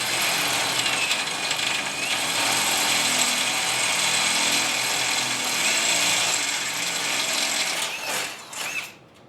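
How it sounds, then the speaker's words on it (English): A drill whines steadily as it bites into a metal motorcycle fender strut, a high grinding buzz with faint ratcheting, then slows and stops near the end. "Now I just got to drill it out."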